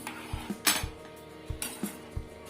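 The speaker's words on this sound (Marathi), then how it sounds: "कस्टर्ड पावडर टाकल्यानंतर सारखं हलवत राहायचं, त्यामुळे याच्यामध्ये गाठी वगैरे होत नाहीत" Spoon stirring custard milk in a metal pot on the stove, several light clinks and scrapes against the metal at an uneven pace, close and fairly quiet.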